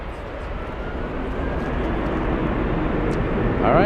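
A jet airliner on the Boston flight rumbles at Frankfurt airport, a broad steady engine roar that gradually swells louder over a few seconds.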